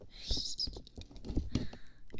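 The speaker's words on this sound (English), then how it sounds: "I really like this keyboard." Soft, close keystrokes on a computer keyboard in irregular quick bursts, recorded intimately with a binaural microphone, with faint whispery talk nearby.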